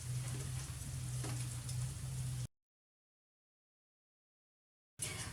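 Sesame-coated cauliflower pieces sizzle and crackle in hot oil in a pan, a steady close hiss with a low hum underneath, broken by a stretch of silence before the frying resumes.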